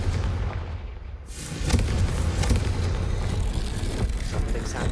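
A Confringo blasting spell goes off in Hogwarts Legacy, a sudden loud burst after a brief quieter lead-in, followed by sustained rumbling explosive noise and crackling impacts over a few seconds.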